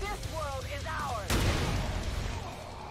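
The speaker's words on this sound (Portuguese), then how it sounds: "só deu pra dar um tiro" A single gunshot booms suddenly from the turn-based tactics game XCOM 2, cutting in sharply after a stretch of voice and game sound, then leaving a dull rumbling tail.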